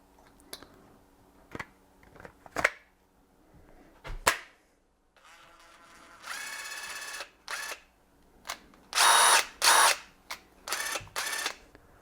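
A DeWALT brushless power tool motor spins up in several short bursts, each a whirring buzz, mixed with clicks and sharp knocks from handling. The sound is close and stops and starts.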